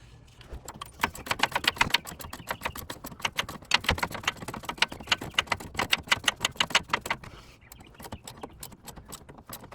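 A 17 mm socket wrench works nuts tight in a steady run of rapid, close ratcheting clicks that continues for several seconds and then stops.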